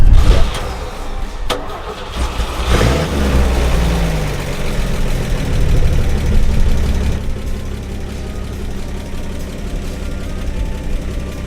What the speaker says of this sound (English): That tapping sound here is typical for these until they build up their oil pressure.